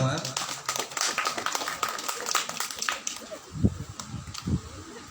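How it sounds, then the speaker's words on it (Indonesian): Audience clapping at a community service event, a scattered burst of hand claps that thins out, with voices talking over and after it. "Terima kasih tepuk tangan buat kita semua"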